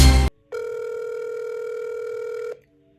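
A telephone call going unanswered: a short burst of noise, then a single steady electronic ring tone lasting about two seconds before cutting to silence.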